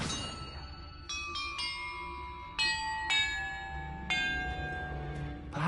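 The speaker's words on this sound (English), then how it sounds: "Perhaps the map contains clues about the order I'm supposed to ring the bells in." Bells ring in the Hogwarts Legacy video game, a series of separate metallic strikes with long ringing tails that overlap and decay, moderately loud over a low ambient background.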